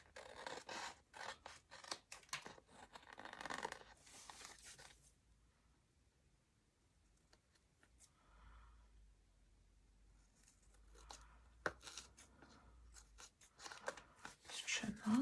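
Scissors trimming paper at a crafting desk, with several bursts of crisp snipping and rasping cuts near the start and end and a quieter stretch in the middle.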